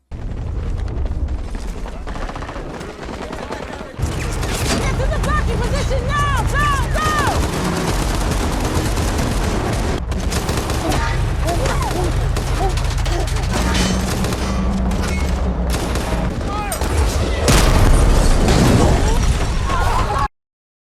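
A gunshot rings out in the 2024 war film Civil War, with loud explosive bursts and rapid gunfire running over a dense, sustained action soundtrack, with people talking faintly in the mix.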